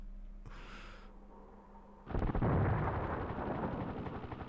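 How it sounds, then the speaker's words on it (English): A missile strike explodes in the Desert Strike: Return to the Gulf video game, a sudden loud boom that bursts in partway through and rumbles on with crackling debris after a quieter stretch. "we shoot a missile at it"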